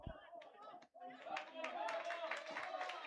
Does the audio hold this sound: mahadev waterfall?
no